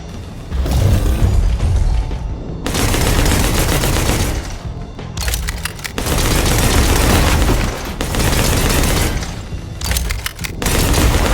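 Heavy, repeated gunfire in Bounty Star: long loud volleys of rapid shots with booming impacts, broken by a few brief pauses, no speech.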